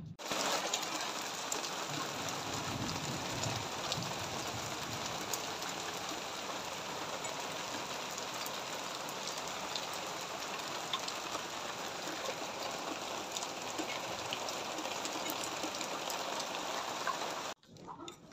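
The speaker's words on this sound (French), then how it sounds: "je vous ai montré la pluie, on a toujours l'orage" Steady, heavy rain from a thunderstorm pours without pause, a dense hiss of drops hitting surfaces, continuing evenly until it cuts off near the end.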